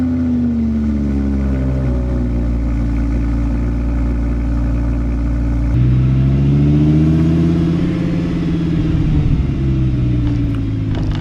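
Audi R8 V10 idling after a cold start, a deep, steady rumble heard close up that swells midway as the revs lift and then settles into a wavering hum.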